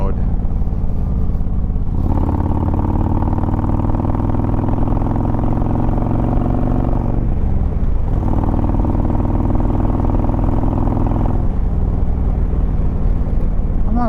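Harley-Davidson motorcycle engine pulling through the gears in sport mode, a steady low rumble that rises in pitch, dips briefly as a gear changes, then climbs again, loud and close with a voice talking over it.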